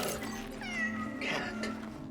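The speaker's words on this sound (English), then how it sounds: "a stray cat sitting at the bottom of them" A stray cat in the video game Cronos: The New Dawn gives a short series of close, clear meows over a steady low background hum, with no talking.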